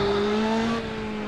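Ferrari 458 GT2 with a naturally aspirated V8, in the Assetto Corsa racing game, holding a loud steady engine drone with strong tonal harmonics, briefly easing slightly toward the end.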